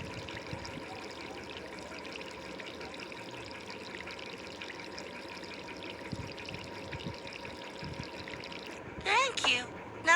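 Medicine poured from a bottle into a cup in a kids' video game, a steady trickling pour running for several seconds, followed by short chimes and a voice.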